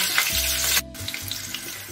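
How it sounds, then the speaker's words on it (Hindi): Jackfruit pieces fry in hot oil with a loud, bright, continuous hiss that briefly cuts out, then carries on with crackles. Background music plays underneath. "तेल है वो गर्म हो चुका है और अब हम इसे कटहल को फ्राई करके निकाल लेते हैं।"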